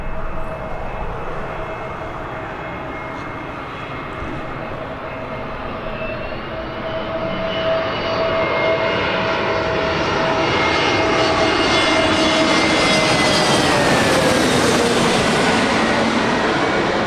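Jet engines of a Eurowings airliner at Birmingham Airport roar loud and near, the whine and rumble building steadily as the aircraft passes close by.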